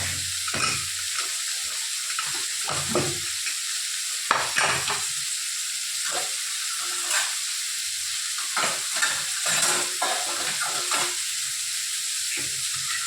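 Tomatoes sizzle and fry in a pan, punctuated by repeated stirring scrapes and clatters, up close with no voices.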